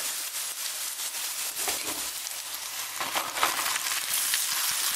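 Brussels sprouts with onions and bacon sizzle steadily in a hot pan, a continuous crackling hiss with a few sharper pops, heard close and with no talking.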